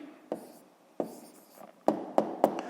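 A pen or pencil writes a math answer by hand on paper, giving a few separate taps and short scratchy strokes, close and quiet, in a quiet room with no talking.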